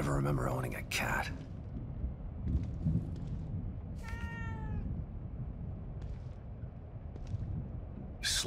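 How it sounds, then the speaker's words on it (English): A cat meows several times in the horror video game The Evil Within 2, with short drawn-out cries over a low ambient backdrop and a few sharp game sounds between them. "A cat."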